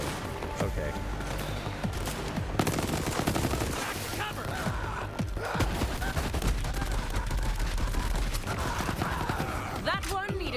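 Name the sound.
gunfire in a video game on Stadia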